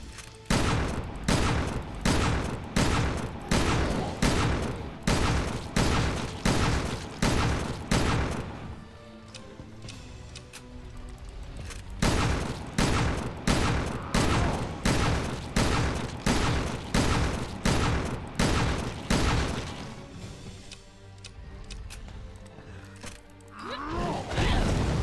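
Shotgun blasts in a video game raid mode fire in steady, evenly spaced runs of loud booming shots, broken by two brief lulls filled with softer mechanical clatter.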